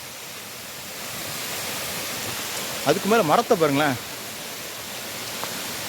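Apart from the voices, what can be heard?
waterfall flowing in forest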